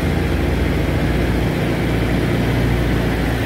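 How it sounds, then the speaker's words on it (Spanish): Heavy trailer-truck engines rumble steadily on a highway near Palín, Escuintla, Guatemala at night, a continuous loud low-pitched drone with no talking. "pueden escuchar ustedes el rugir de los motores sobre la carretera"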